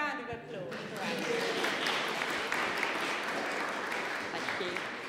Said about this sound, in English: We have a round of applause for Ashleigh.